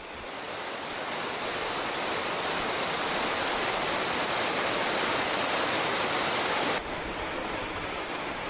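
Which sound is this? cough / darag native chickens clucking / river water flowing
river water flowing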